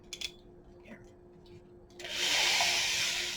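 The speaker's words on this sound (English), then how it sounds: "That's the low speed." After a few soft clicks, a large variable speed drill spins up at low speed and runs with a steady, moderate whir for the last second or so.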